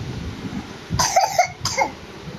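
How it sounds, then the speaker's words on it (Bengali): A child coughs in a short burst of about three coughs, near and fairly loud, over a quiet room hum. "আচ্ছা, বুঝতে পেরেছি কিভাবে কাশিটা হচ্ছে।"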